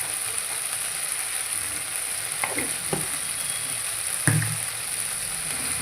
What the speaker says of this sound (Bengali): এবার সব কিছু মিলিয়ে সুন্দরভাবে কষিয়ে নেব যত সময় তেল না ছাড়ে।